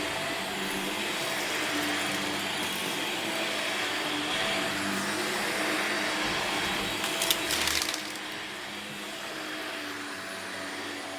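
A new Shark Lift Away vacuum cleaner runs steadily upstairs, a continuous loud whirring drone with a brief rattling surge near the end as it picks something up, then settles back to its even hum.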